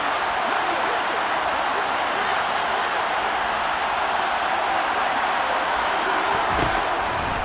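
A stadium crowd roars steadily in an American football video game as a big third-down play approaches, a dense, continuous wash of cheering that holds at an even level throughout, with a brief thump near the end.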